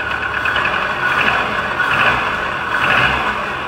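Subaru 2.5 engine running just after a head gasket replacement, a loud, steady idle heard up close with a slight rhythmic pulsing and no voices.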